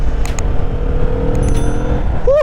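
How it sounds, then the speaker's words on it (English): A brief, steady engine drone from a Kawasaki Vulcan 650 S cruiser motorcycle under way, with a low hum and a short rising whine at the end, heard close beneath wind noise. "I like the induction noise on this actually."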